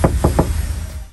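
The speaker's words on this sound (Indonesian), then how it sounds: "kita coba ketok nih guys bagian plafonnya" Three quick hollow knocks on a car ceiling lined with 1.7 mm Ground Zero Silver sound-deadening mat in a Toyota Innova, dull and damped, evenly spaced and close, fading into quiet.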